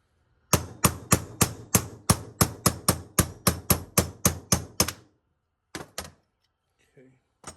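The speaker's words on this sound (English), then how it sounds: "you just tap that bushing out" Hammer taps driving a bushing out of a Suzuki DRZ400 rear shock, a fast steady run of about fourteen sharp metallic strikes, close and loud, then a pause and a few scattered knocks.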